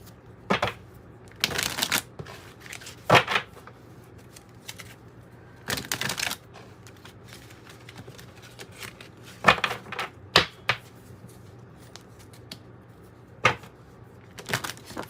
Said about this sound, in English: Let's pull from the tarot.